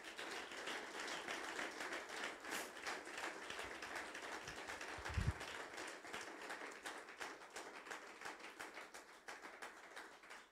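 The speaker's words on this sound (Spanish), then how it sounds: "Dele un fuerte aplauso al Señor." Church congregation applauding at a Spanish-language service, steady dense clapping throughout at moderate level with a brief louder thump midway.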